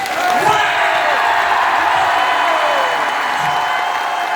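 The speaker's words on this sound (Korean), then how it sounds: "우선 이거 읽기 전에 박수 한 번더 칩시다." Indoor audience at a Korean gathering cheering and clapping, a dense continuous wash of crowd noise with shouts mixed in, loud and sustained throughout.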